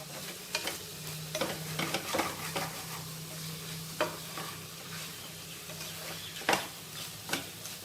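Potato pieces with tomato and chilli powder sizzle softly in a pan while a spoon scrapes and clicks against it in irregular stirs, close and fairly quiet.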